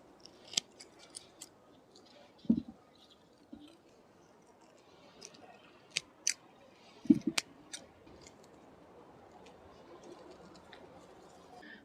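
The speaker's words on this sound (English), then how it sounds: "I'm just gonna cut through the roots a little to release the compaction." Sharp, dry snips of shears or pruners cutting through the compacted, pot-bound roots of a Japanese maple, a handful of scattered close cuts over a quiet outdoor background with faint birds.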